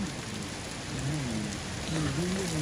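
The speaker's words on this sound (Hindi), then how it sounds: "ये ओले फिर गिरने शुरू हो गए" Hail falls during a thunderstorm in Kashmir: a steady, dense patter of pellets hitting surfaces, with a voice talking faintly underneath.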